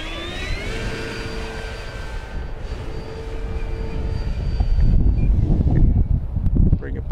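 An E-flite Draco 2.0 RC airplane flying in windy conditions, its electric motor whine shifting in pitch as it passes, with gusty wind buffeting the microphone and growing stronger toward the end.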